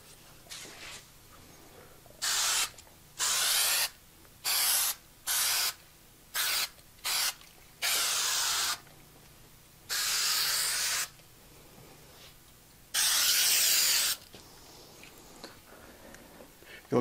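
Spray adhesive hisses onto a display board in about ten short bursts, some quick and some held for a second or more, each loud and close, with quiet pauses between them.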